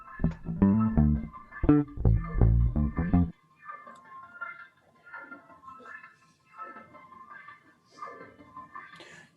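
Resampled piano, doubled and layered with reversed swells and tremolo, starts as a loud stack of choppy chords for about three seconds, then thins into a quieter wash of wavering, shimmering tones sitting in the background.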